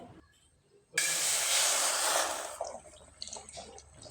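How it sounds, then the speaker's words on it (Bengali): Rice flour batter hits a hot wok with a sudden loud sizzling hiss that surges for about two seconds. The sizzle then fades into softer crackling and bubbling. "বেটারটা কিন্তু এবার কড়াইয়ে ঢেলে দিতে হবে"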